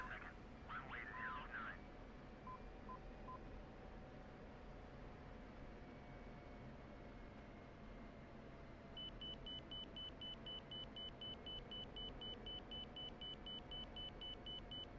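A cockpit warning tone in the DCS F-16C flight simulator beeps in a fast, even series during a night landing, faint and steady over a constant engine hum.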